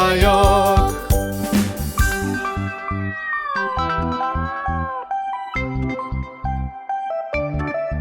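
Cartoon kittens mewing in a Turkish children's animated nursery story, their high cries mixed in with bright, busy background music and light jingly tones.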